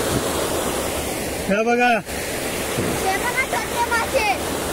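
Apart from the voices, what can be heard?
strong rushing water in a stream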